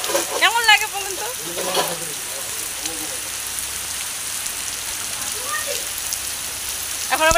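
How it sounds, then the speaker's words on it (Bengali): Rain falling outdoors in a village, a soft steady hiss of light rainfall that continues evenly, with a few faint bird calls and brief voices in the background. "এখন বৃষ্টিতে নামলাম, কিন্তু আমি যেই নেমেছি বৃষ্টিটা কমে গেছে"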